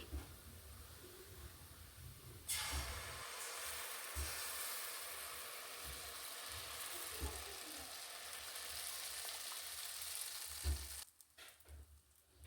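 Kalthappam rice batter is poured into hot oil in a pressure cooker, setting off a sudden loud, steady sizzle that fills the frame and carries on evenly before cutting off near the end with a few clanks.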